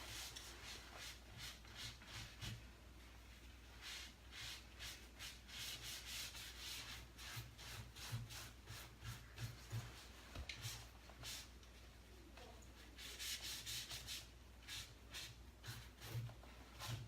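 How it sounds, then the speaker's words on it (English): Black wax is buffed by hand onto a painted cobalt blue wooden chest, a soft, rhythmic rubbing of cloth on wood in quick repeated strokes, faint and close with no talk. "buff it to get a little bit of a sheen on there"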